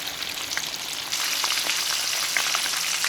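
Shrimp frying in hot oil give a steady, dense sizzle and crackle that grows louder about a second in, with scattered pops and no voices.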